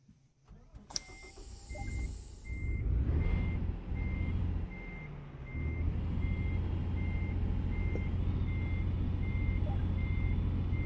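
Steady, evenly spaced reversing beeps repeat over a deep American truck engine rumble in a driving video game that starts up and grows louder, with no talking.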